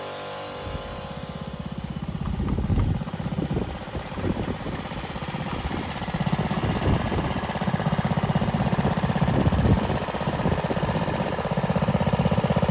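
A restored vintage tractor's small engine runs steadily with a chugging, knocking idle that holds for several seconds, loud and close, with no talking.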